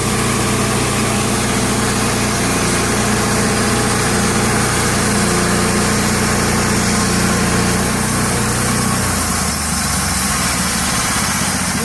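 A loud sawmill engine runs steadily while its blade cuts through a hemlock beam, a dense continuous drone that drops slightly in pitch near the end, with no voices.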